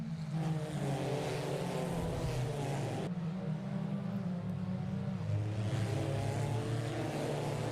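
A Glickenhaus race car in the Assetto Corsa racing game at Road Atlanta gives off a steady, low engine rumble, a smooth drone that holds with only slight shifts in pitch and no talk.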